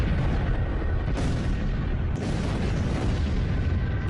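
A massive fireball exploding in the air above Siberia's Tunguska forest, heard as a sustained, loud, rumbling roar with deep low-end boom and a couple of sharper surges, continuous throughout with no speech.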